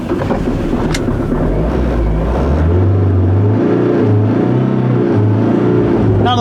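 Ford Transit Connect van engine drones from inside the cab while driving, a loud low rumble with pulsing tones as revs change, no talk.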